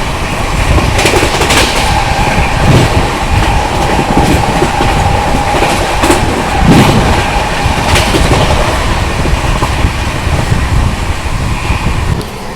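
The Vikramshila Superfast Express, running from Anand Vihar to Bhagalpur, rushes along at speed with a loud continuous roar, rhythmic clickety-clack of the wheels and wind buffeting, heard from on board.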